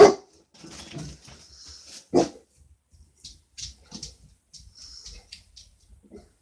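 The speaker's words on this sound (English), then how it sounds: "I don't know what he's barking at." A dog gives a sharp bark at the start and another midway, with scattered softer yelps, snuffles and whines in between, fairly close.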